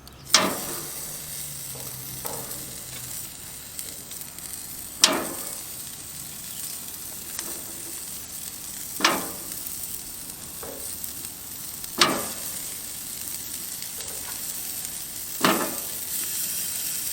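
Skirt steak and flanken-style ribs sizzle on a grill with a steady, fairly loud hiss, broken every few seconds by sharp taps and scrapes from turning the meat.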